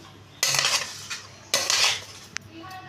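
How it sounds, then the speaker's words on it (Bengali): A spatula scrapes and stirs egg fried rice with ghee in a pan, making two loud bursts of metallic scraping and rattling, followed by a short clink. "দিয়ে এবার আমি খুন্তিটা দিয়ে ভালো করে মিশিয়ে নিচ্ছি।"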